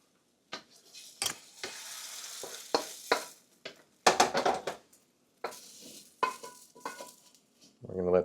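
Scrambled eggs pushed and loosened around a hot wok, giving bursts of soft sizzling and scraping strokes at an uneven rhythm, close by and with brief pauses between moves.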